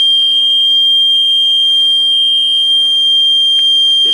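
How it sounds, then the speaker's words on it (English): A loud, high-pitched alarm sounds without a break through the whole stretch, a single steady electronic tone going off at a hip-hop interview. "we got the alarms going off and all that"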